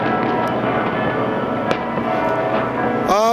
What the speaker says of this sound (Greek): πέφτουν αυτά τα βεγγαλικά